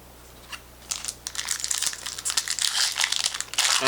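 Plastic foil wrapper of a Magic: The Gathering booster pack from a Throne of Eldraine prerelease kit crinkling and tearing open, close and steady, growing louder toward the end with no talk.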